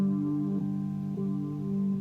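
A three-string cigar box guitar played through a Roland Cube amp with chorus switched on, giving steady sustained droning notes that are re-struck twice, clear and close with no talk.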